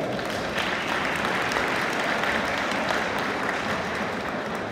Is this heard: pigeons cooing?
no